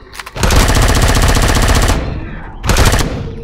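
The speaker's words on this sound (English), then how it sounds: "I might end up switching to my assault rifle for this one if he aggroes me." Sustained automatic assault rifle fire in the sci-fi survival game Empyrion: Galactic Survival, loud and close, a rapid burst lasting about a second and a half, then a short pause and a second briefer burst.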